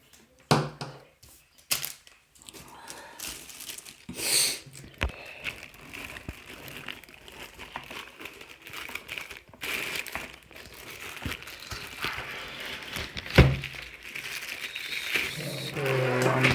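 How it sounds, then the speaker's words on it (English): Plastic packaging being unwrapped from a DREO Atom One room heater, a steady run of close crinkling and rustling with a few sharper crackles and bumps, with no talk. "So one more packet to unwrap."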